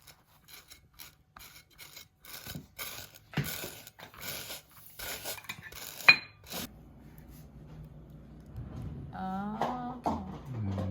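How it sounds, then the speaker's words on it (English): A sharp Chinese cleaver scrapes the hairs off pork belly skin in a run of short, close rasping strokes. A quieter stretch follows, then a voice speaks briefly near the end. "scraping the hairs and excess fat off with a sharp Chinese cleaver"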